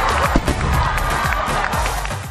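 Stadium crowd at Dubai International Stadium roaring after India's Champions Trophy final win, a dense, loud, continuous wall of cheering with no pauses.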